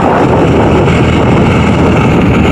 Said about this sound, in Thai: กำลังขี่รถไปแล้วพี่น้อง